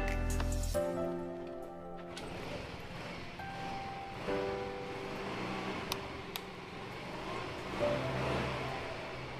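A used automatic scooter idles steadily at a secondhand motorbike showroom, its engine a smooth, continuous hum with a few faint clicks and ticks over roughly nine seconds, close by and with no talk.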